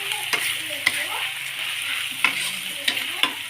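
Onion and tomato fry in a pan for a Betawi pesmol fish dish, giving a steady sizzle broken by a few sharp scrapes and clicks of a utensil stirring, close and clear with no talking.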